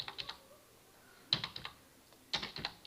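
Keys clatter on a computer keyboard in three short bursts of rapid clicks separated by quiet pauses, close and fairly faint, with no one talking.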